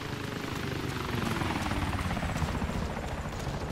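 An Osprey tiltrotor aircraft in the Arma III video game drones steadily overhead with a dense, rumbling rotor and engine roar that stays constant and fairly loud throughout.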